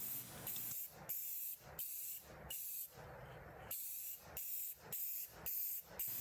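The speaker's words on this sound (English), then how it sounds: "And here we are putting another clear coat on the headstock. I decided I want this glossy," Clear coat is sprayed from a can onto a guitar headstock in a series of short, loud hissing bursts separated by brief pauses, with one longer spray in the middle.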